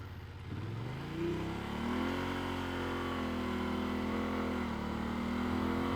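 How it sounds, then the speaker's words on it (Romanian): An 850 cc motorcycle engine pulls in second gear up a steep mountain road with hairpin bends, a steady moderate drone whose pitch climbs and levels off under wind noise. "noroc că am de suficient cuplu la motorul ăsta de 850 cm3, încât să pot să fac asta și într-a doua"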